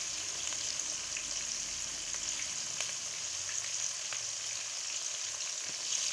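Onions browning in oil in a frying pan, a steady close sizzle and crackle throughout with occasional soft clicks, no voices, while aloo palak sabzi is cooked dhaba style.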